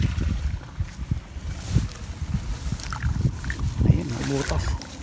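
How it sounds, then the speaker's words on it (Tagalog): Water flows and sloshes in a fish pond stocked with fingerlings during the rainy season, a continuous low wash running beneath steady nearby talking. "Dito tapos naririnig nyo yung tunog ng tubig oh."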